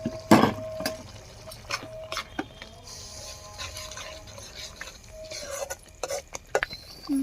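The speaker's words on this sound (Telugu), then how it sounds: "ఇప్పుడు పసుపు వేసుకొని కలుపుకోవాలి." A spoon scrapes and clinks against a pan while turmeric is stirred into a simmering egg curry, with sparse irregular knocks and a soft sizzle, fairly quiet with gaps between strokes.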